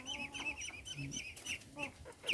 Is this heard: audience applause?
no